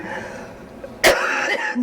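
A person coughs once, sharp and close, after a stretch of quiet room sound, followed by a brief raspy throat sound.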